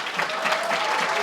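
Audience applause for champions and their families at a recognition event, a brief, dense burst of many hands clapping, steady and close.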